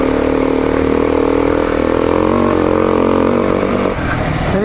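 A motorcycle engine labours steadily while climbing a steep hill on a trail ride, held at a loud, strained drone close to the microphone, with a brief rise in revs near the end.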